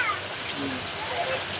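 Steady broadband hiss of rain pouring off a roof, a continuous wash of falling water at an even level with no pauses.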